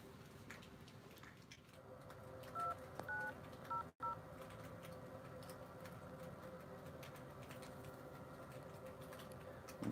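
A few short keypad tones from a mobile phone being dialed sound around the middle, brief beeps over a steady background hum with no talk.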